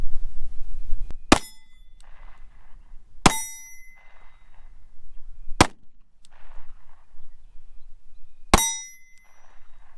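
Four sharp, loud single shots from a Ruger Max 9 pistol held with a loose grip, spaced irregularly over several seconds with quiet outdoor background between them.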